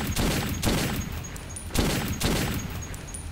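Gunfire in the Metro 2033 shooter, several loud, close shots fired at irregular intervals, each a sharp burst with a short rumbling tail, heard alone without talk.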